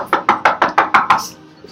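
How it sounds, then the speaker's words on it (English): Seven quick, evenly spaced knocks rap on a door, close and crisp, followed by a brief quiet pause. "So teachers are knocking on the door, Andreas."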